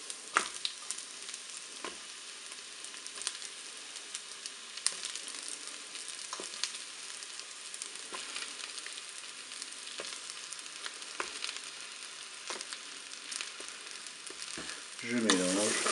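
Button mushroom pieces fry with grated garlic in a Cookeo multicooker bowl, giving a steady, dense sizzle with scattered small clicks of stirring, close and continuous for the whole stretch without any voices.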